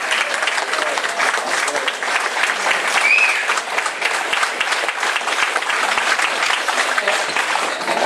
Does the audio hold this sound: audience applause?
yes